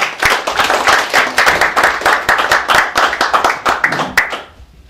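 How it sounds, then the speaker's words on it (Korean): Audience applause greets a lecturer at a 2013 New Year prayer gathering peace lecture, dense steady clapping from a full crowd lasting several seconds before tapering off at the end. "따뜻한 박수로 맞이해 주시면 고맙겠습니다."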